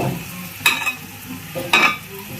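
Ginger paste being stirred into a frying pan of blood fry, a low sizzle broken by two distinct scraping spoon strokes, close and without talk.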